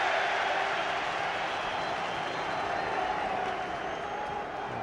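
A stadium crowd at a Liverpool v Barcelona UEFA Cup semi-final applauding Robbie Fowler as he comes on as a substitute, a steady broad wash of clapping at a distance, even in level throughout.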